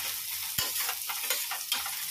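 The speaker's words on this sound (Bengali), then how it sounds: "আর এখানে আমি পেঁয়াজ ভাজতে বসিয়ে দিয়েছি।" Onions frying in hot oil in a pan, a close, steady crackling sizzle with a few sharper pops and stirring scrapes, no voices.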